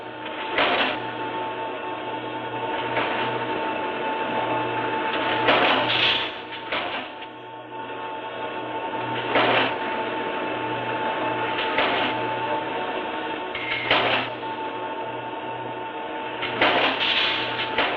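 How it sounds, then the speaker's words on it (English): A Weedomatic A30 numerically controlled machine, powered by hydraulic cylinders, runs with a steady mechanical hum and low drone, punctuated every few seconds by brief hissing bursts of hydraulic movement. "Powered by hydraulic cylinders, the Weedomatic A30 has a traverse rate of 600 inches per minute."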